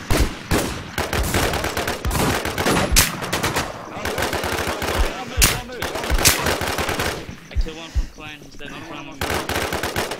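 A video-game shootout filled with loud, rapid machine-gun bursts and single shots fired close and from a distance, crackling almost constantly while players talk over the gunfire.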